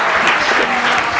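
An audience at a Hindi comedy poetry recital claps briefly: a short, close burst of crowd applause lasting barely over a second, with a faint voice mixed in.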